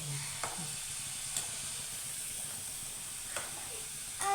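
French fries frying in peanut oil give a soft, steady sizzle and hiss, with a few faint clicks and taps from a utensil and no talking.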